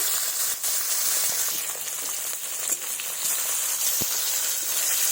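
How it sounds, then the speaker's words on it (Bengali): Fish belly pieces sizzle in mustard oil, a close, constant frying hiss dotted with a few sharp pops and crackles, with no voices. "মাছগুলো ভেজে নেব"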